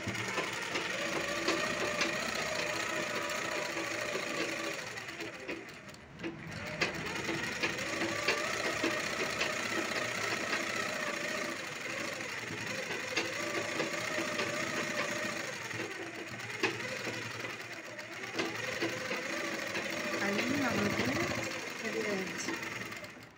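A sewing machine stitches a blouse in a steady, fast mechanical rattle that runs nearly without pause, briefly stopping twice, while a person talks over it at moderate level.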